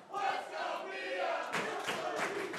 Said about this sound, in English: And now this crowd getting behind Mia Yim.